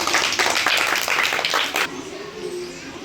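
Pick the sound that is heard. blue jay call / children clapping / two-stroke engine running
children clapping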